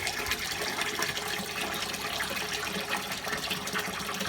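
Water gushes and splashes steadily inside a washing machine during its second rinse cycle, a dense, fairly close rushing sound with no voices.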